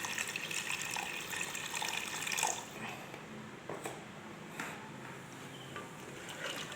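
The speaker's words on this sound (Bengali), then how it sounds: "এর মধ্যে একটু অ্যাড করে দেবো জল।" Water runs into a mix of vinegar and Arabic salsa for Arabic macaroni, a steady splashing pour for about two and a half seconds that then fades to faint trickles and drips.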